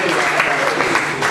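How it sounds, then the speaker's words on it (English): An audience claps at a gathering, a short burst of broad, even applause that fills the moment right after a call for recognition. "Please, can you just give a hand of applause for Kehinde?"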